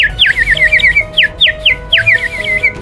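A small ceramic water whistle, a clay pitcher filled with water and blown into, imitates a nightingale with repeated warbling trills in close, bright bursts roughly every three quarters of a second, played alone at a summer ceramics and santon market in Aubagne.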